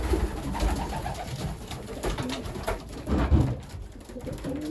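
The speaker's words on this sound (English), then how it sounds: "looks like 611's making a lot of noise" Racing pigeons coo steadily in a loft, several birds overlapping in soft, throaty rolling calls at close range, with a louder burst near the middle and no talking.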